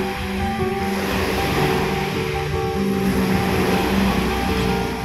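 Surf rolling steadily onto Jomtien Beach in Pattaya, a continuous broadband wash of waves with a low, constant rumble and some wind, loud and unbroken throughout.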